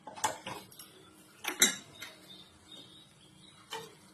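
A spoon stirs fish curry with eggplant in a metal pot, giving a few sharp clinks and scrapes spaced irregularly, with a cluster in the middle and a last clink near the end, close and moderately loud.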